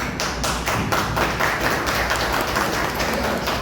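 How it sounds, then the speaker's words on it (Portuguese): Steady, dense clapping from an audience at a lecture in Brazil, loud and close, holding evenly throughout without any talking. "eu peço uma salva de palmas"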